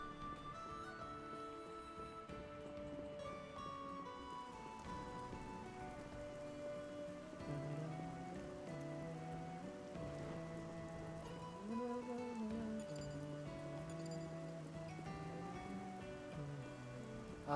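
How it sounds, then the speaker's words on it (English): Soft rainfall in the video game Xenoblade Chronicles 2 patters faintly and continuously beneath a gentle melodic music score, with no voices. "Ah, the rain."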